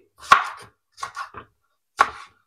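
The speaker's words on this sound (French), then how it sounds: "damay fejet tomate bi" Knife chops through tomato on a board for chicken soup, three crisp close strikes with short gaps, the first followed by a quick flurry of smaller cuts, no talking.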